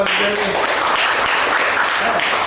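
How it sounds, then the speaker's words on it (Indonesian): A hall audience claps together for a doctor at a World Kidney Day health talk, a dense, steady roar of applause held at full volume throughout with no pauses. "Tepuk tangan dulu dong"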